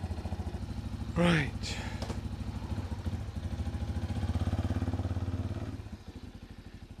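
A Benelli Imperiale 400 motorcycle engine idles with a deep, steady throb, swells briefly in revs, then settles back. A voice speaks near the start.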